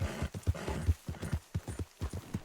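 In Red Dead Redemption 2, a horse's hooves clop in a quick, steady galloping rhythm, close and fairly soft, with a run of distinct beats and no other noise.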